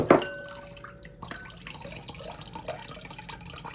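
A coconut cracks open with a sharp knock, then its water trickles and drips out in light irregular splashes, heard close up and fairly quiet.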